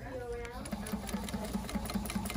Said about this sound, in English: I definitely could sew faster